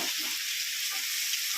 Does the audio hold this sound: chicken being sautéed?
yes